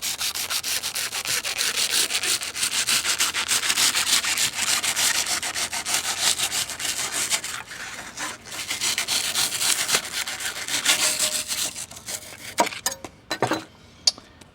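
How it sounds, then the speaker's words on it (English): Steady scraping and rubbing of a fairly sharp knife trimming overhanging material on a deer stand, continuous and close, ending with a few sharp ticks and scrapes. "it cuts very easy with just a fairly sharp knife"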